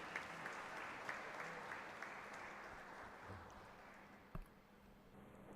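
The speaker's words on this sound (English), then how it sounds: "So please welcome Dr. Sanjay Upadhyay sir with a huge round of applause." A large audience at a lecture series applauds to welcome a speaker, a dense, sustained round of clapping at fairly low level that fades slightly toward the end, with no talk over it.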